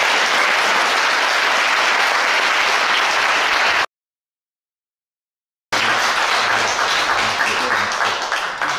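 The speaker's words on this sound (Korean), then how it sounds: "여러분 큰 박수로 환영합니다" A concert audience claps loudly and steadily to welcome a female singer of sijo, traditional Korean vocal music, at a jeongga recital. The dense applause stops abruptly for a silent gap of about two seconds, then resumes just as strongly.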